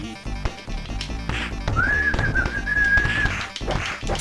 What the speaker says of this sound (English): me whistling the Superman theme